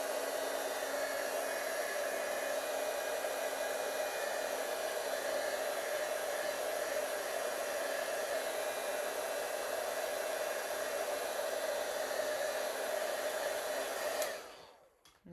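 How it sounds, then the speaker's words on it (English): Steady, loud blowing whir of a handheld heat tool drying wet watercolor paint on a pet portrait, running continuously without talk before switching off abruptly near the end. "I'm just going to hit it with my heat tool."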